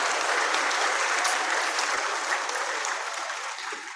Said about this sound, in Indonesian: Nah, boleh tepuk tangan buat LDI ini.